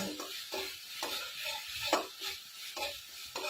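Spice masala being fried and stirred in a pan, with a steady sizzle broken by rhythmic scraping strokes of a spoon roughly every half second, close and fairly loud, with no voices.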